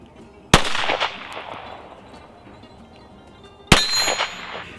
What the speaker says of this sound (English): First shot, and I've got a test barrel here.